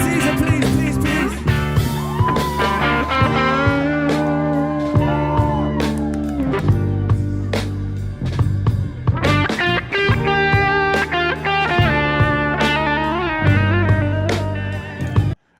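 Electric guitar with a warm, slightly fuzzy overdriven tone playing chords and melodic lines, steady and upfront throughout.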